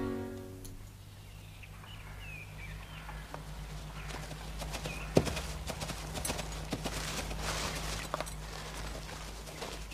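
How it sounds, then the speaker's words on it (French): Hooves of a horse clip-clop steadily at moderate distance in a 1970s French period drama, a low steady hum beneath and a brief thump midway, with no talk. "Tu crois que c'est le cheval de Moret?"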